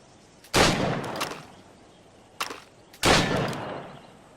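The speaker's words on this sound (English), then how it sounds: "Shoot these targets." Gunfire at targets in Assassin's Creed Rogue, with a loud booming shot, a smaller report, then another heavy blast, each trailing off into a rumbling echo.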